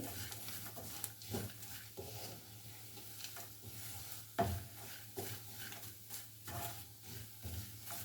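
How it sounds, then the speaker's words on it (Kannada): Spicy chivda being stirred with salt and powdered sugar, soft close rustling and scraping of the dry mix with occasional light knocks, quiet and continuous with no talking. "ಶುಗರ್ ಪೌಡರು ಈ ಥರ ಚೆನ್ನಾಗಿ ಮಿಕ್ಸ್ ಮಾಡಿ"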